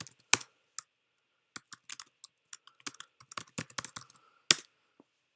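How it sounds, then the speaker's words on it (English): An address is typed on a computer keyboard: quiet, close, irregular keystroke clicks in short bursts with pauses between, and no voice. "let me type in"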